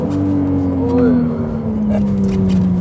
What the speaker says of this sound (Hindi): जो फरारी के इंजन की रोर है ना, वो मतलब कहते हैं ना दिल खुश कर देती है।